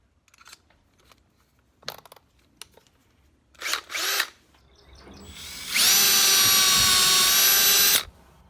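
A power drill bores a 5/16 inch hole for a 1/4 inch bolt in a DIY yoke build. Faint tool handling and a couple of short whirring bursts come first, then a loud, steady high-pitched drilling whine lasts about two seconds.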